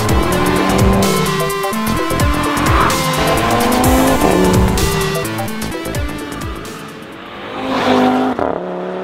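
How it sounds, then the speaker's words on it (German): A 2015 Audi RS3 Sportback 2.5 TFSI five-cylinder engine roars and revs loudly and continuously, with gear shifts and surging acceleration throughout, swelling again near the end. "der Motor zieht brutal an, der Sound ist kernig"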